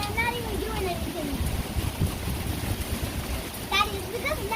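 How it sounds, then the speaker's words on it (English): Heavy rain drums and splashes nearby during a summer storm, a continuous wet roar beneath a child's and an adult's voices talking over it. "It's like a mini rain tornado."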